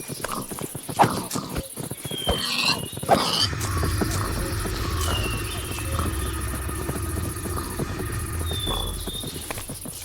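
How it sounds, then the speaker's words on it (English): A creature in a video game growls low and rumbling while pigs are being killed on a farm, sustained for several seconds among chirping insect ambience and earlier clopping footsteps. "there was a weird growl when killing the pigs"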